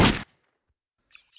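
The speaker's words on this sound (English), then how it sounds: "I shot her with a shotgun and she didn't die instantly" Shotgun firing in Postal 2, a single loud, close blast that cuts off abruptly, followed by near silence and a faint scrape.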